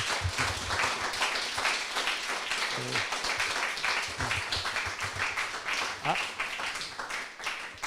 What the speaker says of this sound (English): So let's give Tom a round of applause.